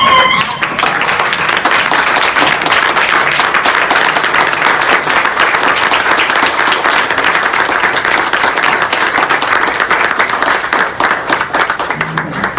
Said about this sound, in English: if you would please stand and give him a round warm of applause